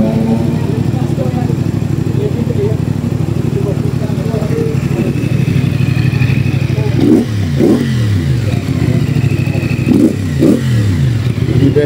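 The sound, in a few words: WMOTO Bobbi 450SR motorcycle engine revving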